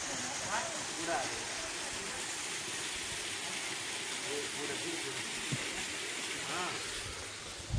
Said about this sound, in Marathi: वरपासून खाली पाणी पडायला लागले.